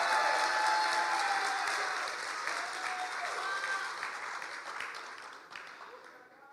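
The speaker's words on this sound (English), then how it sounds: "Give a big applause for him." Sustained applause from an audience at a youth meeting, dense clapping that starts loud and gradually fades, with some faint voices mixed in.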